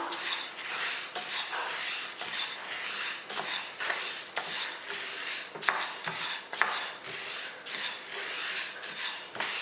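Horse gram dry-roasting in a pan while a metal spoon stirs it, giving repeated close clinks and scrapes against the pan in an uneven rhythm over a soft rustle, with no voices.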